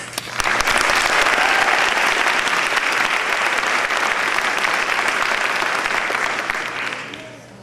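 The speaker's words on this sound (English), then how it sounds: "Please give a huge round of applause to the National Association of Black Accountants." Sustained audience applause at a coronation event, a dense wash of clapping that swells quickly, stays loud for several seconds, then fades toward the end.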